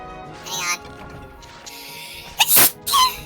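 A single sharp sneeze bursts out near the end during a Monster Hunter Freedom Unite game stream, preceded by brief softer breathy sounds over faint background noise.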